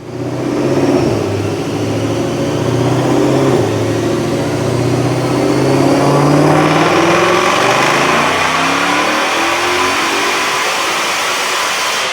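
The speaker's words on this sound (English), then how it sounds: "You can do this on 93, but today we're running E85. This is a package we have here in-house, so check out this dyno pull." A 2022 Ford Mustang GT500 with carbon fiber parts, running E85 with a 2.6 pulley at 16 psi, roars loud and sustained through a dyno pull, its pitch climbing steadily as the engine revs.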